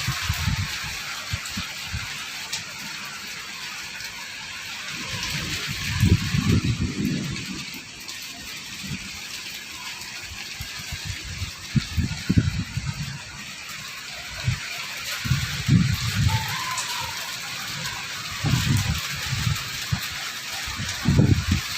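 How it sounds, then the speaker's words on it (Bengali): Heavy rain with hail pours down at night in Dhaka, a constant wash of hiss broken by repeated low gusty rumbles of wind. "আর বড় বড় এক একটা শিল পড়তেছে, মানে আকাশ থেকে যেটা বলে শিলাবৃষ্টি বলে ওটা"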